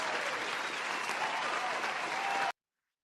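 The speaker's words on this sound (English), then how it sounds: "Let's give the ladies a round of applause." Dense, even applause from an audience holds for about two and a half seconds with no voices, then cuts off abruptly into silence.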